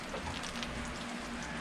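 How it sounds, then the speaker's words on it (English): Tacos fry in hot oil in a pan, a steady dense sizzle and crackle that stays constant and fairly faint, with no talking. "Just let that sucker keep on frying"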